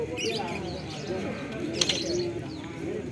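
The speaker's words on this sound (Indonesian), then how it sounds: "stiker lomba merpati Indonesia ini untuk merpatinya yang ini betina" A female racing pigeon coos softly at close range amid the background chatter of a busy market, with people talking nearby.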